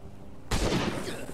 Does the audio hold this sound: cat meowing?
no